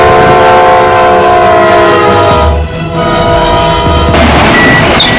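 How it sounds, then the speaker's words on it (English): A freight train's horn blares continuously and loudly as the locomotive ploughs through deep snow, with a steady rumbling roar of the train beneath the sustained horn. "the engineer just laid on the horn the whole trip."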